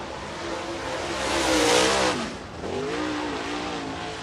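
Race car number 96 from Benton, Kentucky running at Lake Cumberland Speedway in Burnside, Kentucky, its engine roaring up in pitch as it nears, peaking loud, then dropping away and revving on as it passes.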